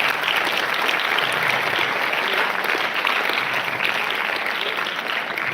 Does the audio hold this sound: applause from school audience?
yes